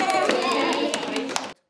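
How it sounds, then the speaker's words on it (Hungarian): An audience at a kindergarten celebration claps for the teachers, brisk close applause with distinct hand strikes that stops abruptly at the end. "nagy-nagy taps az óvónéniknek"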